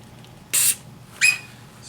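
Two short hissing bursts of cleaner spray shoot into the carburetor openings of a 1973 Datsun 240Z dual-carburetor setup, close and sharp, separated by a brief pause.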